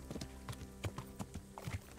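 Horse hooves clip-clopping in the medieval game Kingdom Come: Deliverance, a steady run of close, distinct hoof strikes on hard ground, heard alone.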